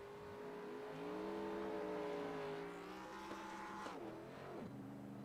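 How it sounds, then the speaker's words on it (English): A stock car engine in a racing video game revs hard, then the pitch sags and stumbles as a gear shift is missed before the revs climb again; it is steady and moderately loud, with no speech. "Doesn't quite get it in gear there by the sounds of it."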